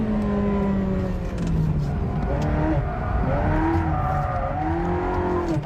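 A Ferrari 360 Modena driven hard with traction control off, its engine revving up and down with gear changes and tires squealing, a steady loud run with faint commentary underneath.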